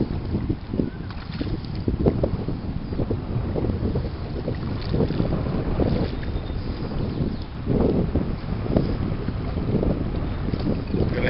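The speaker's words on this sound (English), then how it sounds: "Got a heavy wind blowing today," Heavy wind roars steadily across the microphone while a boat is paddled on the water, with low gusty rumbling and soft splashing pulses running throughout and no voices.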